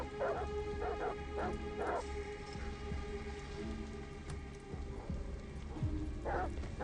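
Guard dogs in Detroit: Become Human bark in several short bursts, moderately close, over a steady patter of game rain, with a pause in the middle before a final bark.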